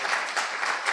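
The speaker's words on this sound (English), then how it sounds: "A very warm round of applause." Audience applause at a science policy conference session, a brief burst of steady, dense clapping from a crowd.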